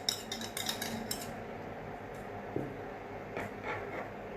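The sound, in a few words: stirring curd, cream and condensed milk in a bowl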